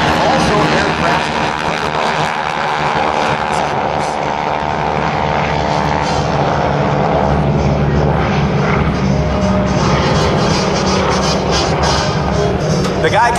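Warbird propeller airplanes run up and launch at a military air station air show, a loud continuous droning engine roar throughout, with a public-address announcer talking over it.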